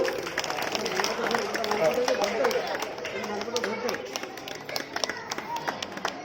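An audience claps at a school ceremony honouring matric toppers on Sathya Sai Baba's 98th birth anniversary, giving dense, fairly loud applause that thins toward the end, with voices mixed in.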